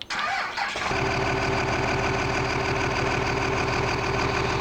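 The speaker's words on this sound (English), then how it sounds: "I will let you go ahead and listen to the truck startup" A pickup truck engine in the video game Farming Simulator 17 cranks and turns over, then settles into a loud, steady idle with a rhythmic low rumble throughout.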